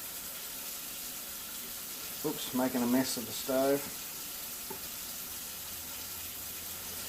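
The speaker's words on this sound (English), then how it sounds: "As you can probably hear, that's the hot water running" Hot water runs steadily from a tap for sparging home-brew, a constant hiss that carries on under a brief spoken remark.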